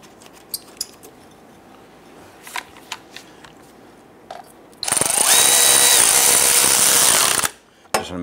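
Power tool driving bolts into the support bracket of a 2011-2021 Jeep Grand Cherokee 3.6L V6, a close, loud whirring burst of about two and a half seconds after scattered clicks and handling noises.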